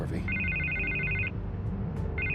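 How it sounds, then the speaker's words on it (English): Telephone bell ringing in repeated electronic trills, two bursts separated by a short pause, heard over a low background hum with faint voices beneath. "I can't get the phone to stop ringing."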